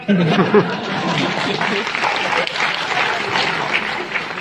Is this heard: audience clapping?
yes